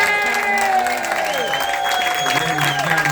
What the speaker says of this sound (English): I want you to give the Ojays a big round of applause